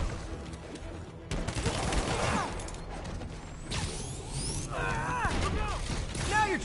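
Gunfire in the Spider-Man PS5 video game, a dense burst of shots and whooshes mixed with mechanical clicks and swelling game music, loud and continuous throughout.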